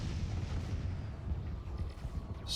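Explosions destroy a battleship in the space strategy game Master of Orion: Conquer the Stars: a continuous, heavy, rumbling barrage of booms that holds steady throughout, with a brighter crackle near the end.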